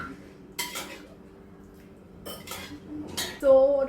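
A spoon clinks against a steel thali and dishes while rajma is served onto the plate: a few short metallic scrapes and taps, then a brief ringing chime, close and fairly quiet.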